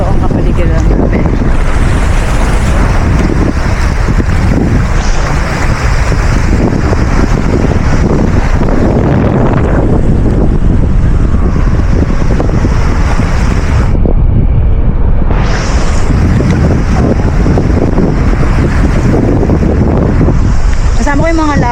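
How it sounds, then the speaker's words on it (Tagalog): Sea at the shore in Chania, Crete, with wind buffeting the microphone, a loud continuous roar of surf and gusts that carries on without a break. "Dito ako sa dagat."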